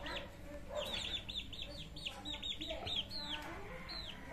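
A one-month-old Dongtaw chicken chick peeps and clucks in a rapid run of short, high chirps, fairly close but quiet, over a muffled farmyard background.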